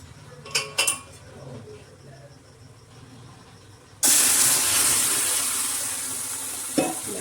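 Milk splashes into hot ghee for sweet shiro and erupts into a loud, steady hiss of sizzling and steam, preceded by a few light clinks of a spoon stirring in the pan.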